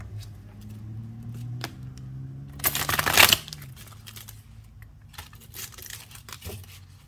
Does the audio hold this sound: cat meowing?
no